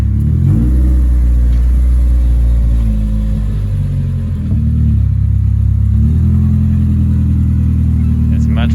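Straight-piped Honda RSX Type-S engine revving, a loud close rumbling exhaust that rises and falls through several blips with a steady low drone throughout, voices talking over it at times.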